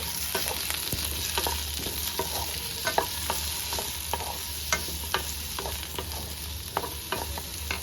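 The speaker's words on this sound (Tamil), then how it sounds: "ஸோ இந்த வெங்காயத்தை ஃபஸ்ட்டு போட்டு நம்ம வதக்கிக்கலாம்." Onions sauté in a little oil in a nonstick pan, a steady soft sizzle broken by regular clicks and scrapes of a spoon stirring, close up with no voices.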